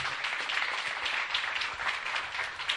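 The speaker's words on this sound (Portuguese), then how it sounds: "Vamos aplaudir ao Senhor Jesus?" Church congregation applauding together in a steady, dense wash of clapping that holds at an even level throughout.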